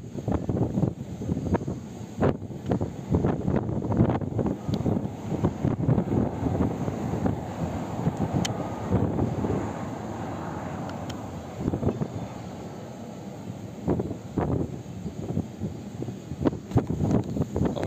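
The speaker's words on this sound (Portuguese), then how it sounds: "tá ventando pra caramba." Strong wind buffets the microphone of a FIMI X8 Mini drone flying outdoors, a loud, continuous rumbling roar with gusty swells and sharp thumps throughout, no voices.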